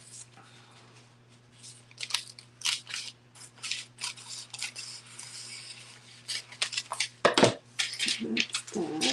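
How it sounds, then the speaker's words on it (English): Scissors cutting craft material at a crafting table, a run of close snipping and rustling strokes with a louder burst of cuts near the end; a faint steady hum sits underneath and no one speaks. "I'm going to cut it this way."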